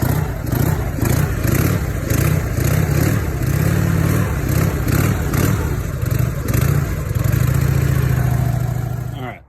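A Harley-Davidson EVO motorcycle engine fitted with a CV40 carburetor, revved by hand on the throttle: loud, close, rough engine roar rising and falling in repeated blips before settling into a steadier drone.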